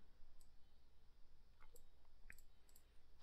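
Several sharp computer mouse clicks, scattered and irregular, close and fairly quiet against a faint background hum, with a louder click at the end.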